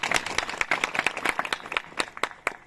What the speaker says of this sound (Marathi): प्रथम मी टाळ्या वाजवते नंतर तुम्ही आपल्या आपल्यासाठी आता वाजवा